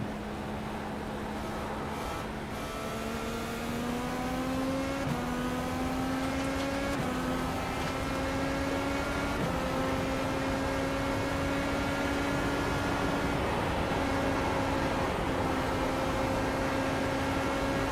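A steady IndyCar engine in iRacing drones throughout at World Wide Technology Raceway, its pitch climbing through a series of gear shifts, accompanied by constant road and wind noise.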